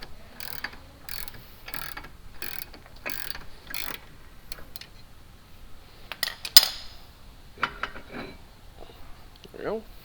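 Ratchet wrench tightening brake rotor bolts on a car, a rapid run of evenly spaced mechanical clicks followed by scattered metallic clanks and scrapes, close by with a voice talking.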